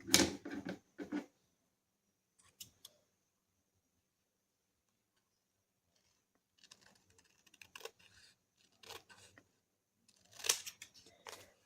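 Scissors snip through a brown paper bag in short, scattered bursts of crisp cutting and rustling, close and fairly quiet, with pauses of near silence between.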